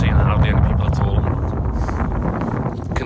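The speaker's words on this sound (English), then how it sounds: "Yes, it is a bit windy." Strong wind buffets the microphone on a winter mountain hike in Snowdonia, a constant heavy low roar that fills the whole stretch, with faint voice-like sounds mixed in.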